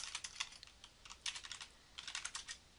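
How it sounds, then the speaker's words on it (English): Computer keyboard typing, quick bursts of soft close key taps in three short runs with brief pauses between, quiet and with no talking. "We're going to type in Northland"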